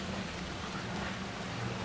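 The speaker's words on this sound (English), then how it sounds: "And it's raining." Steady heavy rainfall in the video game Alan Wake 2, a dense, even hiss of rain on surfaces with low rumbling underneath, continuous and loud throughout.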